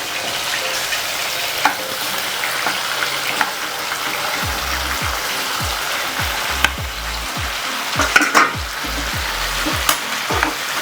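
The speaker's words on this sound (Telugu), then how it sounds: "టమాటాలు వేసుకుందాం" Tomatoes frying in a small amount of oil in a pan for a tomato chilli chutney, with coriander seeds and cumin: steady close sizzling with periodic stirring scrapes, loud and continuous without talk.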